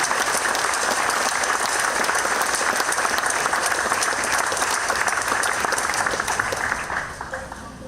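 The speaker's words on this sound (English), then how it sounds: "Let's give Mike a big round of applause." Sustained, dense applause from the audience at a Hall of Fame award ceremony honors an absent inductee, steady and full for several seconds before tapering slightly at the end.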